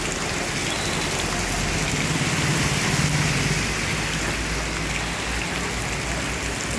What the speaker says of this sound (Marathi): नुसता पाऊस आहे बघा.